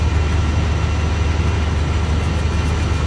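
A WDM3D diesel locomotive in a fresh repaint rumbles past in Train Simulator on an Indian Central Railway route, a steady, loud low-frequency engine drone holding evenly throughout with no talking.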